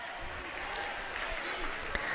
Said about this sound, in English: Put your hands together for our young novice riders.